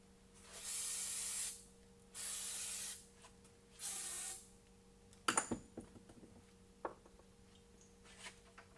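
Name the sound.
spray cleaning a hose fitting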